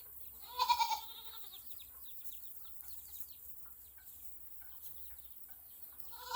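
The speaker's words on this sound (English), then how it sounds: "Goats too." Goats on a small farm with chickens nearby give one short, wavering bleat early on, followed by quiet background rustling and faint distant animal noises.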